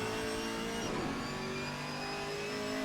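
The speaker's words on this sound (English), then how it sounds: "The Camaro does sound really good, though." A Chevrolet Camaro race car engine roars in a racing game at Indianapolis GP, a loud, steady, high-revving drone with a brief surge as it passes, and no talk over it.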